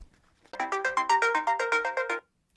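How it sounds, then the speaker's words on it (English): A Samsung Galaxy Watch Active (2019) find-my-phone alert makes a phone ring with a loud, repeating electronic melody of rapid tonal pulses for about two seconds, standing alone with no talk. "You can also go to find my phone. If you lost your phone, you tap on that."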